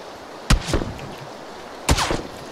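Two loud, close gunshots from PUBG gameplay, each a sharp crack with a short echoing tail, about a second and a half apart, with no talking.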